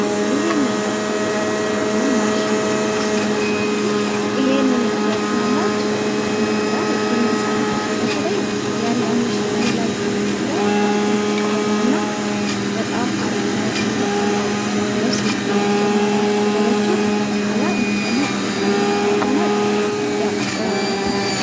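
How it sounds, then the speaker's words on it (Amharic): Blender grinding fruit for homemade juice, a loud steady motor whir with a harsh churning edge that runs unbroken and close. "ይሄውላችሁ በዚህ መልክ ፈጫዋለሁ።"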